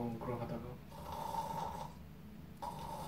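A voice imitates snoring to mimic the labored, rattling breath of a dying person, with a few rough inhaled snore sounds, close and fairly quiet.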